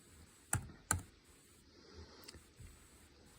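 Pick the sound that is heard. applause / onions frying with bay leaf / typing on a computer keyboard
typing on a computer keyboard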